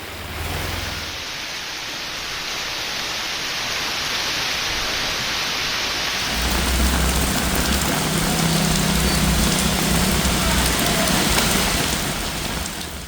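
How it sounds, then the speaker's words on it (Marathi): Heavy, continuous monsoon rain falling over Pune's Sinhagad and Khadakwasla area, a dense steady hiss with no break that grows slightly louder and fuller about halfway through. "पुण्यात सकाळपासून संततधार पाऊस पडतोय।"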